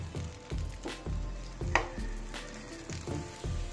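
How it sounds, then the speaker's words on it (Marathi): Sliced onions sauté in a pan for a chhole masala, with rhythmic stirring scrapes and soft clinks over a low, steady sizzle. "त्यासाठी आपण कांद्याचे असे उभे काप करून घेतले, त्याला परतून घेणार आहोत"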